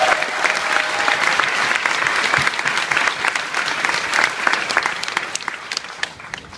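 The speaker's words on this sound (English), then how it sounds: "I'd also like to offer up a round of applause for our 20 newest citizens" A crowd claps warmly at a citizenship ceremony at Fort Jackson, sustained applause filling the room at an even level without letting up.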